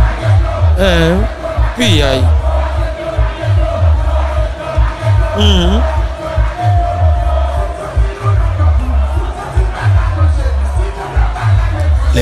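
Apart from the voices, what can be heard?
crowd of protesters shouting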